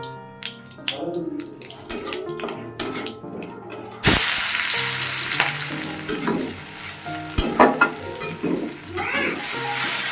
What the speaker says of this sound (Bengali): এখন ডিমগুলোও ভাজা করে নিচ্ছি।